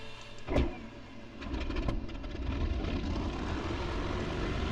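Piston engine of a Focke-Wulf Fw 190 Dora 9 fighter in DCS World cranking through a cold start, sharp bursts around one and two seconds, then catching into a steady, loud rumbling idle.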